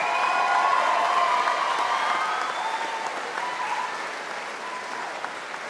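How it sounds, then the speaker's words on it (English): An audience at a high school graduation ceremony applauds in a steady wash of clapping that starts full and gradually thins and fades over several seconds. "Let's give them all a round of applause."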